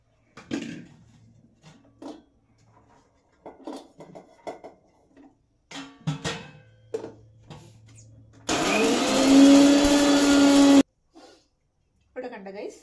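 Electric mixer grinder blends ginger and garlic into paste in a loud, steady roar of about two seconds. Talk and kitchen clatter come before and after.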